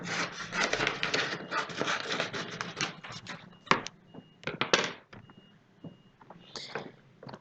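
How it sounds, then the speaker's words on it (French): Scissors snip through paper to cut out tickets, giving close scratchy cutting and rustling that fades into sparse clicks and handling noises. "Donc, on découpe 3 tickets."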